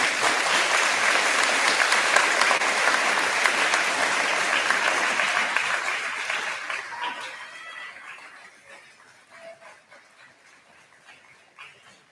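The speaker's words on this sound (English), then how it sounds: "Give a round of applause on the way back down." Audience at a high school grade 12 graduation ceremony applauding loudly and steadily for about six seconds, then the clapping fades away to a few scattered claps and quiet room sound.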